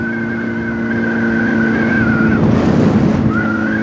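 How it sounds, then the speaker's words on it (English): A tractor drives past on a country road, a loud, near engine drone with a steady tonal hum that swells as it passes. A hissing rush of tyres and wind rises briefly near the end, with no voices. "Tractor."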